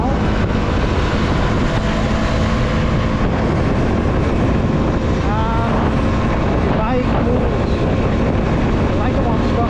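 A KTM Duke 200 motorcycle engine hums while riding on an open road. Heavy, constant wind roar nearly buries the engine, which shows only faint shifts in pitch.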